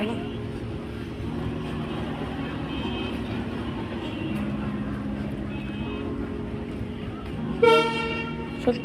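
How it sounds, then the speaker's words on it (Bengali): A train runs through Jessore railway station while travelling from Khulna toward Benapole. Its steady rumble fills the clip, and near the end a short, loud horn blast sounds. "আরও একটি ট্রেন খুলনা থেকে বেনাপুরের দিকে যাচ্ছে"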